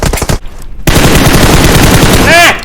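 Loud bursts of automatic gunfire from PUBG Mobile rattle in rapid repeated shots, broken by a brief gap, with a voice heard faintly near the start.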